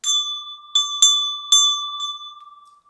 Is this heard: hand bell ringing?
yes